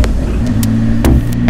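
Cars passing on a mountain road between Delhi and Almora in Uttarakhand, a steady close engine drone with brief whooshes as vehicles go by.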